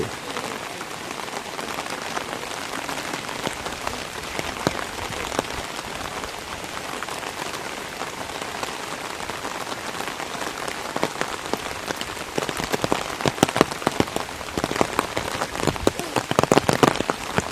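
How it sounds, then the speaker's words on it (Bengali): Rain pours down steadily and close, a thick constant patter with sharper individual drop impacts growing more frequent toward the end. "বৃষ্টি এখনো থামতেছে না বৃষ্টি চলছে"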